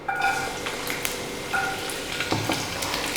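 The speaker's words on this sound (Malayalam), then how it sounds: "ഇനി ഇതിനകത്തോട്ട് നമുക്ക് എടുത്ത് വെച്ചിരിക്കുന്ന വെളുത്തുള്ളി ഇട്ട് കൊടുക്കാം." Garlic frying in hot oil in a pan while cooking egg omelet noodles: a continuous close sizzle with a few light metallic scrapes and clinks from stirring, and no speech.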